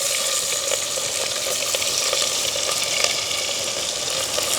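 Mustard seeds, fennel and fenugreek fry in hot oil for a village crab curry, giving a loud, dense, continuous sizzle with crackling pops throughout.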